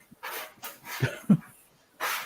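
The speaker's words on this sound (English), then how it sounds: "It's Kitty using her litter box" A cat scrapes in its litter box, making several rough, broadband scratching bursts separated by short pauses, heard at a moderate distance.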